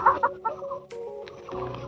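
Farmed chickens clucking nearby, a few quick close clucks and short calls in an uneven rhythm, with soft background farmyard noise.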